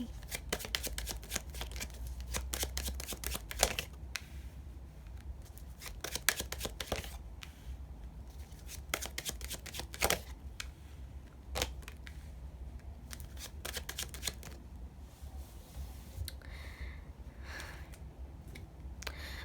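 Tarot cards are shuffled by hand in quick, crisp riffling and snapping bursts close to the microphone, pausing briefly between rounds, with no voices.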